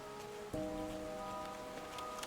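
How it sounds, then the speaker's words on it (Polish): Rain falls in the video game Endling: Extinction Is Forever, a soft steady patter under quiet sustained in-game music tones, faint and continuous throughout. "Deszcz pada."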